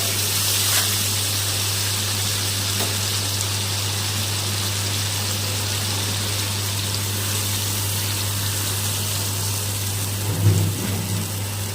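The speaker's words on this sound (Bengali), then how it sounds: "তেল বেরিয়ে এসছে এখন আমি এর মধ্যে জল দিয়ে দেবো" Water poured into hot oil in a pan while making a Bengali boroli fish curry with ridge gourd, giving a steady, continuous rushing and gushing wash that holds throughout, with a brief louder bump near the end.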